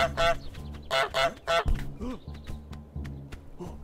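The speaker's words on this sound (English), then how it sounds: "I'm a goose" A goose honks repeatedly in the video game Untitled Goose Game, a string of loud, nasal honks in uneven bursts with short gaps and no talk.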